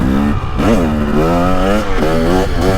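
A 2023 Yamaha YZ450F or 2023 KTM 300XC dirt bike engine revs hard in the green map, close and loud, its pitch climbing and falling through several throttle blips with no talking.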